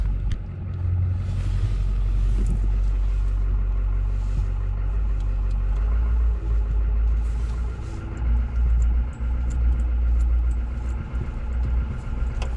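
Steady low diesel rumble from a 2004 LB7 Duramax 3500 dually pickup, revived after sitting four years, cruising around a farmstead; the engine drone stays loud and continuous throughout with no talking.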